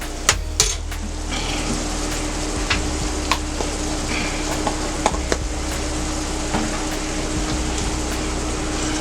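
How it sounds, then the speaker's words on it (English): Onions, bell peppers and minced garlic sizzle steadily in a hot pan, a continuous crackling fry punctuated by sharp clinks and scrapes of a utensil stirring against the metal, with no talking. "The onions and bell peppers are cooking down nicely."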